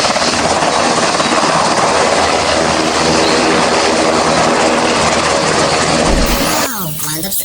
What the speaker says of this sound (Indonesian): Wah, apa ini teman-teman? Wih, wih, wih, sebuah helikopter.